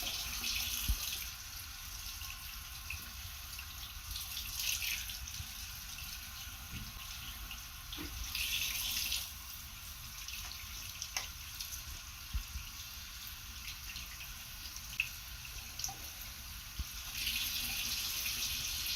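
Tap water runs steadily into a sink during handwashing in a clinical skills setting, a continuous hiss with small splashes and drips, close by and fairly quiet, with no talk.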